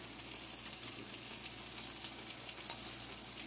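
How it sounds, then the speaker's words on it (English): Broccoli simmering in a pan alongside pork cube steak cooking: a steady, soft sizzle and bubbling hiss, continuous and fairly faint, with no talking. "you're just gonna let it simmer for a few minutes"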